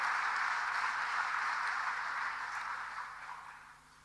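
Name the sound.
audience applause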